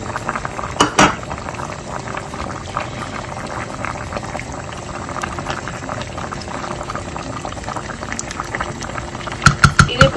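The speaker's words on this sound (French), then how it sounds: "vous enlevez votre viande et vous continuez la cuisson de vos légumes" A pot of vegetables and tomatoes for chicken couscous simmers with a constant bubbling boil, close and fairly loud, with a few utensil clinks near the start and the end.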